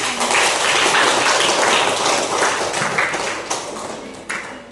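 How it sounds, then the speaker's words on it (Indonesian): A classroom full of people claps together in a dense, steady round of applause that gradually thins out toward the end. "Boleh tepuk tangan dulu."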